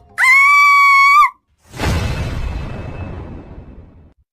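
A woman in a horror story screams loudly and shrilly for about a second. After a brief pause comes a noisy crash-like burst that slowly fades away.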